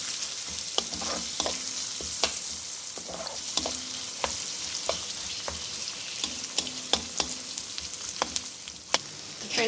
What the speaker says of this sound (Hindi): सौते करेंगे प्याज को गोल्डन।